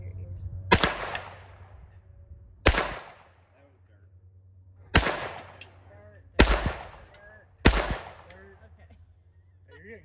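Five loud, sharp gunshots from an AR-style 9mm rifle being sighted in outdoors, spaced unevenly a couple of seconds apart, each with a short echoing tail.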